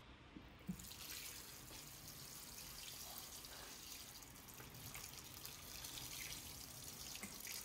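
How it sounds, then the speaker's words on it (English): Watering a tray of broccoli microgreens, a steady hiss of water spraying and trickling onto the soil, close and even, with a faint knock near the start and no speech. "now it's time to water it. Give this ample water."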